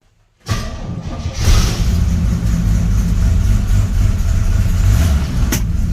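An old pickup engine starts up abruptly and runs loudly, a rough, steady low rumble close by with no pauses.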